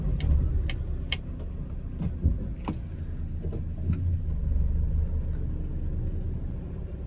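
A white 2015 VW Crafter 2.0L diesel long-wheelbase panel van idles and creeps slightly forward, giving a steady low engine rumble with faint ticking and a few light clicks over it.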